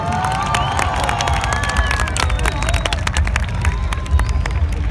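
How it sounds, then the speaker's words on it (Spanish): A large outdoor crowd cheers and applauds at a giant bonfire lighting in Nuevo Laredo, with a steady roar of shouts and claps over loud low rumble and wind, whistles and calls rising throughout. "Que se escuche otra vez ese fuerte aplauso."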